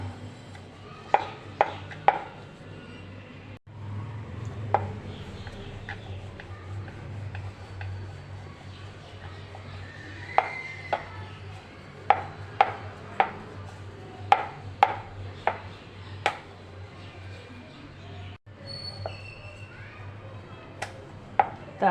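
A rolling pin works stiff shakkarpara dough on a wooden board greased with a little oil, producing sharp knocks and clicks in irregular clusters over a low steady hum, close and fairly faint.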